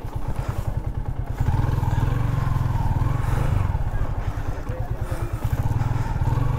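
A motorcycle engine runs steadily at low revs while the rider parks during a nighttime moto camping trip, its close, continuous throbbing rumble filling the whole stretch.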